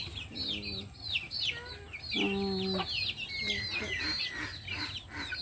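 Chickens cluck and chirp repeatedly at close range on a village farm in the morning, with a quiet voice murmuring in the background.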